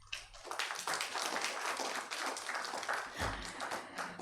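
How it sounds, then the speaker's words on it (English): Audience at a university public lecture clapping, a moderately dense patter of hands heard somewhat distant and fairly quiet, lasting a few seconds with a low thump near the end. "Another round of applause,"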